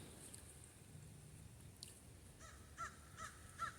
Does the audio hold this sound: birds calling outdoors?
yes